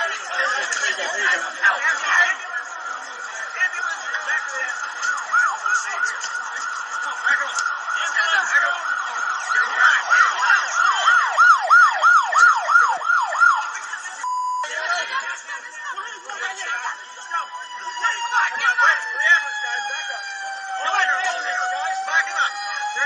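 A loud ambulance siren wails and yelps continuously, its pitch sweeping up and down, with excited voices and crowd chatter mixed in, at the Ronald Reagan assassination attempt.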